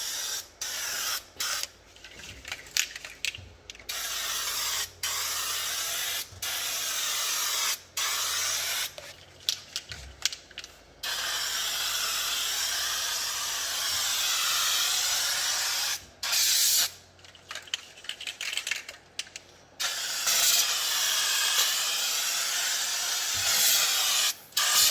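Sustained hissing of a Rust-Oleum Turbo bedliner aerosol can spraying a Ranger truck bed, broken into repeated bursts with short pauses between them, close and steady.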